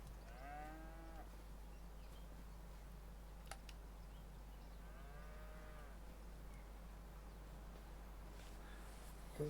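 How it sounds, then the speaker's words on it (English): Cows in the Farming Simulator 25 video game, on a dairy and cattle farm with realistic livestock, low at about 0.5 s and again near 6 s over a steady hum of game ambience; no one talks. "Because we're moving cows around."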